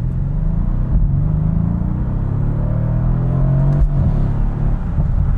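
Brabus 600-tuned Mercedes-AMG C63S, a rear-wheel-drive sedan making about 600 horsepower, with its engine idling or cruising from inside the cabin as a steady low rumble that holds even throughout, with no voices.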